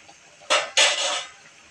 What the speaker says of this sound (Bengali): আবার একটু নাড়াচাড়া করে দিচ্ছি।